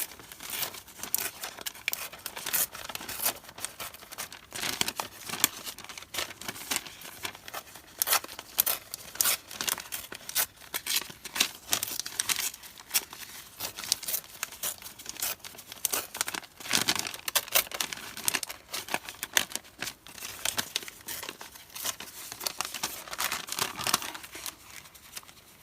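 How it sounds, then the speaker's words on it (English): Paper is torn and crumpled by hand for a junk journal, a close, soft, continuous crinkling and ripping texture with small irregular bursts, quiet and without any voices. "so I'm just going to tear it"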